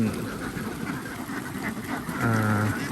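Egg-laying ducks on a duck farm in Yang Chum Noi quack in a noisy, overlapping chorus, with one louder honking call near the end.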